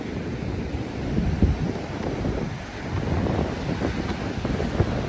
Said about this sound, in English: Some strong wind.